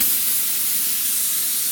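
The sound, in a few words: spray gun spraying upholstery glue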